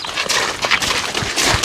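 A Suffolk Punch stallion's hooves clip-clop on a road as it pulls a cart, a brisk uneven series of close, loud hoofbeats with no talk over them.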